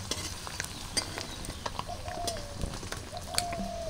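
Paneer fries in oil with a soft, faint sizzle and small ticking pops, while a dove coos quietly in the background.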